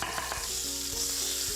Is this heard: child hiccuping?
no